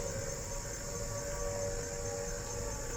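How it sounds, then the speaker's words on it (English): A steady, sustained air raid siren wail holds a constant pitch throughout, droning loudly over a low rumbling background with no pauses. "The noise that you hear at the moment is the sound of the air raid siren."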